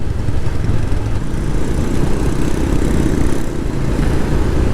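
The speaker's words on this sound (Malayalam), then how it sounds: "നേപ്പാളിൽ നിന്നുള്ള റൈഡേഴ്സാണ് ഈ പോണത്. എല്ലാവരും ഹിമാലയൻ ബൈക്കിലാണ്." Royal Enfield Himalayan motorcycles ridden by foreign tourists on rented bikes pass by on a Nepal forest road, a steady, loud engine rumble close by with no gaps and no talking.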